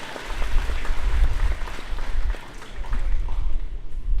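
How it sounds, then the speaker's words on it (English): Graduation audience applause in Belmopan, a dense, continuous wash of many hands clapping in a large space, fairly loud and steady throughout with a slight dip midway. "please another round of applause for our"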